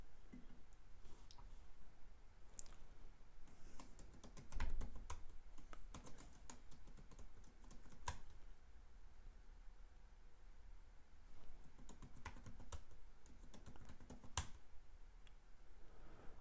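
Keyboard typing while logging into a Cisco ISR4k WAN router, a steady run of quiet key clicks with a few sharper louder taps, close and alone with no talking.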